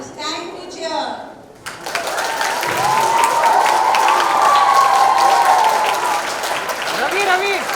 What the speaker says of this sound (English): All right, girls, it's time to cheer.